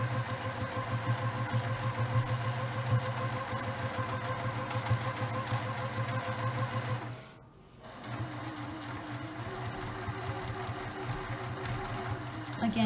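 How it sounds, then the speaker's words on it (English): Sewing machine stitching a fabric placemat, a steady close-up mechanical whir with rapid rhythmic needle ticking that pauses briefly midway, then resumes at an even pace. "I'm going to turn the fabric and continue to sew all the way down"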